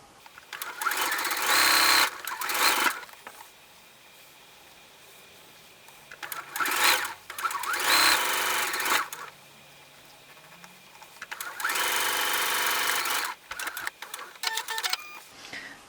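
Sewing machine stitching quilt seams for a sofa throw in three bursts of fast, steady mechanical whirring and rattling, separated by quieter pauses with faint handling noises.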